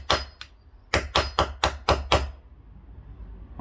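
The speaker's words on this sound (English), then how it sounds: "then just get the hammer to actually put it in" Hammer blows knocking a ball bearing into a ground anchor: two quick strikes, a short pause, then six rapid, evenly paced sharp metallic hits, close and crisp, fading into quiet.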